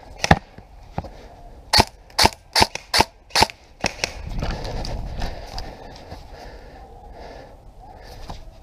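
Airsoft guns fire during a speedsoft game, a rapid string of sharp, close cracks in quick succession followed by rustling movement and a few fainter shots.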